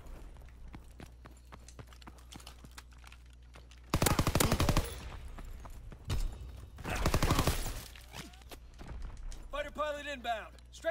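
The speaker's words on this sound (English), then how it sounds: "inbound. Strafing the target." Aircraft strafing run in Call of Duty WW2, heard as two loud, dense bursts of rapid gunfire about three seconds apart, set over a steady low game rumble with a brief chirping effect near the end.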